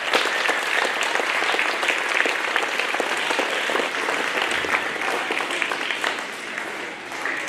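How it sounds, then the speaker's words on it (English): Sustained applause from an audience clapping for teachers at a school gathering, a dense, steady wash of many hands that holds throughout and eases slightly near the end. "Let's give them a round of applause."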